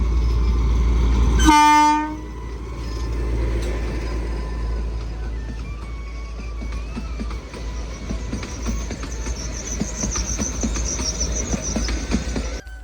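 A loud train horn blasts briefly, then a special passenger train rumbles past close by with steady clattering wheels and a high screech later on.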